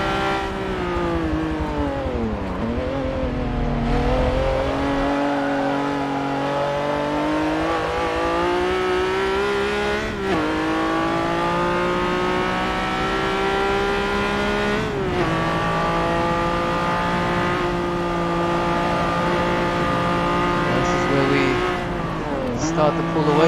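Honda NSX-R race car engine in Forza 7 on the Nordschleife, revving high and sweeping up and down through gear shifts, loud and continuous throughout with a brief tire squeal.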